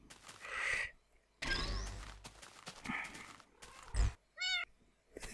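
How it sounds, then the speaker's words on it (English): A Siamese cat meows repeatedly at close range, a mix of long wavering cries and a short rising call near the end, with some faint shuffling between them. "we've got a cute little Siamese kitty"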